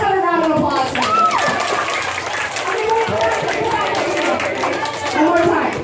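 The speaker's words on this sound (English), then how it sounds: "Let's have a round of applause for you." A crowd claps in a steady burst of applause, mixed with cheering and children's chatter throughout.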